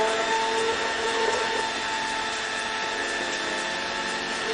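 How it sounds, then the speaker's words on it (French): Blender whirring continuously as it mixes a strawberry entremets base with reconstituted ginger crumble, a steady high motor whine, moderately loud and alone without talk. "On va de nouveau mixer. Alors je mixe souvent."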